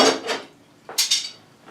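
Cheap metal tire levers from Harbor Freight clank and scrape against each other and the rim while a tire is worked off a 1980 Suzuki FZ50 moped, a few close bright metallic clinks in quick succession.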